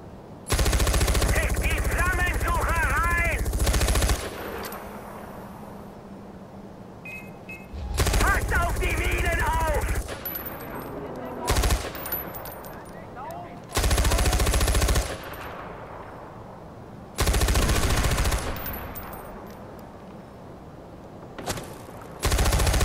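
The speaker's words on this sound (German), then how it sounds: "Kopfschuss mit dem MG" Automatic machine gun fire in the video game Far Cry 4, coming as about five loud, separate bursts with quieter gaps between them. Faint background sounds fill the gaps.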